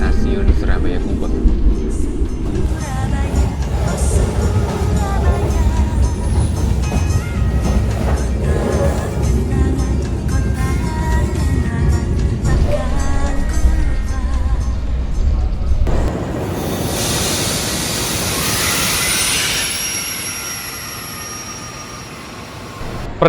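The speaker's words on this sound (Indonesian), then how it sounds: "Perjalanan kereta Wijaya Kusuma saat ini sudah tiba di stasiun Surabaya Gubeng." The Wijayakusuma train rolls into Surabaya Gubeng station with a long, continuous rumble and rattle heard from inside the car, then shifts to a brighter hiss and whine as it slows.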